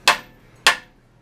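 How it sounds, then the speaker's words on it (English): A hammer strikes a vehicle's steering knuckle twice to free the ball joint during a budget lift install on a Geo Tracker, two sharp metallic clanks about half a second apart, close and loud with a short ringing decay. "So if you just slam it with a hammer"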